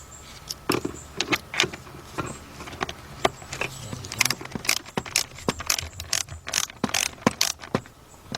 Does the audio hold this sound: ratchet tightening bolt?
yes